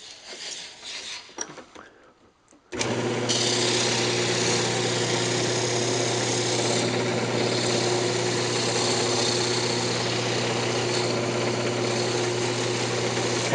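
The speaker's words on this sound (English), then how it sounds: "I'm going to go ahead and sand it." A wood lathe spins the lid of an off-center turned wooden box while sandpaper rasps against it, a steady, close, continuous scratchy rub over the motor's hum that starts abruptly after a short quieter lead-in.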